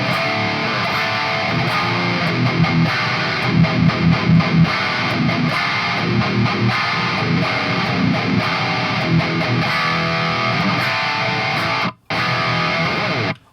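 An electric guitar plays through a Graphene pedal board on the Molten preset, giving a thick, saturated distorted tone in a steady run of chords and notes with a brief cut near the end.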